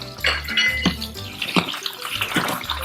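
A spoon stirs a thick brown sugar mixture in a pan, producing close, repeated scraping and clinking strokes against the metal with a soft wet bubbling under them.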